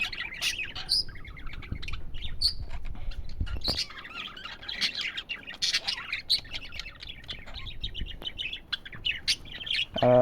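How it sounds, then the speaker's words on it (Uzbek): A male pet budgerigar sings continuously, close up, in rapid chirping, warbling phrases with squawky notes and brief pauses, the song running steadily without voices. "Mana shu nar mana shunaqa sayragandan keyingina moda bosishga ruxsat beradi."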